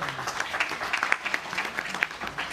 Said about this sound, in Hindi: तालियां बजाएं आज सालकोट की